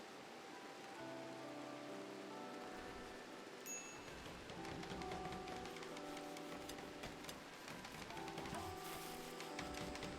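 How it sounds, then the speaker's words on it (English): Steady rain patters through the video game Rimworld, set in a tropical rainforest, a continuous soft hiss of drops running under layered game music throughout. "But my God, can't it stop raining?"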